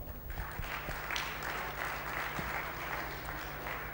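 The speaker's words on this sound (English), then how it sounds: "A big round of applause." Steady applause from a convention audience in Lahore closing a panel session, a dense wash of clapping holding at an even, moderate level for the full stretch with no voices over it.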